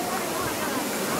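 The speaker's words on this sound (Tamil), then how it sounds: "இதோ இங்கே நாம் பார்த்து கொண்டிருப்பது பழைய குற்றால அருவி" Old Courtallam waterfall near Tenkasi, a steady broadband roar of falling water fills the whole clip at an even level, with no pauses or distinct events.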